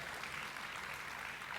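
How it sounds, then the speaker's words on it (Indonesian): A church congregation at a healing service applauds in a steady, dense wash of clapping, somewhat distant and uniform in level throughout. "Nah, tepuk tangan buat Tuhan dong."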